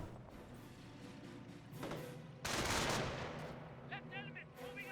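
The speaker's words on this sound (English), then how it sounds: "Sniper firing away." Gunfire in a Company of Heroes battle, a mix of sharp reports and dense crackling bursts that swell loud in the middle, with faint chatter under the clamor.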